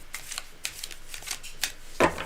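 An old, well-kept tarot deck is shuffled close by, giving soft papery riffles and card slaps in repeated bursts, with a louder snap near the end and no talking.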